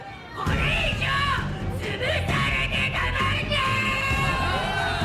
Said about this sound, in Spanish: En la manifestación había más gente de la que me imaginaba, muchísimos gritos, ruido